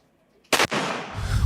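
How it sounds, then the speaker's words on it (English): A single sharp, loud competition pistol shot cracks out after near silence, followed by a ringing, echoing tail and rising background rumble. "let's watch Brandon's gun recoil here"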